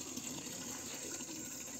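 Water runs steadily into a bathing tank at a rural church site, a faint continuous hissing gush with no breaks and no voices.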